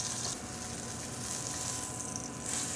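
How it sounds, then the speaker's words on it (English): Steak searing in a hot pan at Zees Grill in Niagara-on-the-Lake, a dense continuous sizzle, close and steady, without talk. "So we're just gonna sear it for about 2 minutes on each side"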